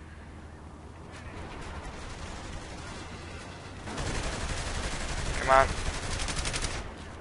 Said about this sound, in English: You'd think a shotgun at that range would actually kill somebody